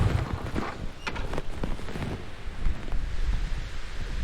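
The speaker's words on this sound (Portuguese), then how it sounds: "Está um bocadinho de vento" Gusty wind buffets the microphone outdoors near Poço Negro, Castro Daire, Portugal, rumbling and rushing continuously, with no voices.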